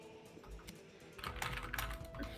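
Quiet, irregular clicking of keys on a computer keyboard, sparse at first and then a faster, denser burst of typing, heard without any talking.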